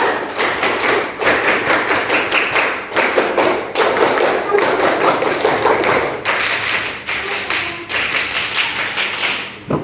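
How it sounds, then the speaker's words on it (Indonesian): Schoolchildren in a classroom perform the Pramuka scout clap, a loud, close, rhythmic pattern of sharp hand claps repeated in quick groups with brief pauses between rounds. "Tiga kali tepuk pramuka."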